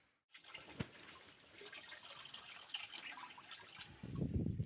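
Water gushing from several opened irrigation taps in a pepper-growing setup, a steady broadband rush that rises slightly, with a louder close splashing flow near the end.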